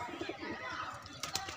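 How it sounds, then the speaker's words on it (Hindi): A pigeon coos softly in a short, low burble, with faint background noise and a couple of brief sharper sounds near the end. "कालपुरा कबूतर है साडा बहुत कमाल दा।"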